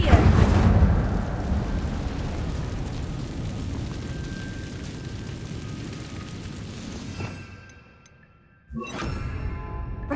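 A fire spell cast in the Hogwarts Legacy video game lets out a loud roaring whoosh and crackle of flames that fades away, followed by a short silence and then a sharp new burst near the end.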